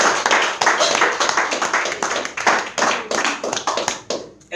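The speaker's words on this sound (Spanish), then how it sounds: "dale otro aplauso al Señor" Worshippers in a Spanish-language church service clap in a lively, rhythmic beat, sharp hand claps bunched in quick pulses.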